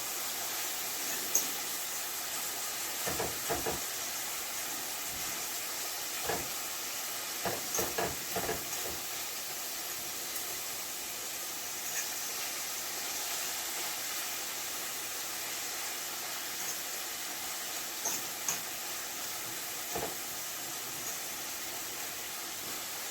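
Carrot dumpling filling sautéing in a pan gives a steady, even sizzle and hiss throughout, with a few soft clinks and knocks of utensils scattered over roughly twenty seconds.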